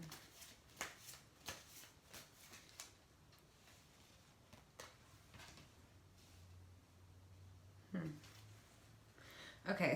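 An Earth Magic Oracle deck being shuffled by hand, giving a series of quick papery riffles and taps spread through a quiet room, with a brief voice near the end.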